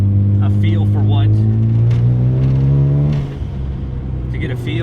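A Mazda FD RX-7 with twin turbos accelerates, its engine note climbing steadily for about three seconds before easing, heard from inside the car with brief whistling and talk over it.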